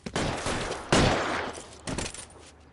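Gunfire in L.A. Noire during a police shootout at a cafe: loud, close bursts of shots in quick succession, with three clustered volleys over a few seconds and no talking.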